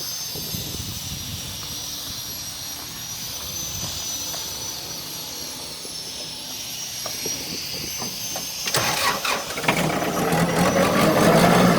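A 2008 Kubota 45 hp tractor engine runs at a steady, continuous drone, growing louder with added rattling clatter over the last few seconds; no one speaks.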